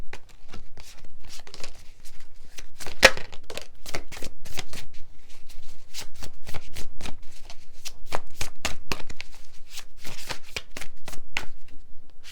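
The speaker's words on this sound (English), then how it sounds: "I'm going to pull some Light Seers Tarot just for some further" Light Seer's Tarot cards are shuffled by hand in a long, steady run of quick riffling flicks and soft slaps, close and crisp, with no talking.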